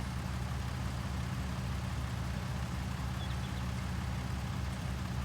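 Combine harvester engine in Farming Simulator 19, a steady, low, droning idle with a constant harmonic hum and no talk.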